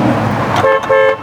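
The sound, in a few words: car horn honking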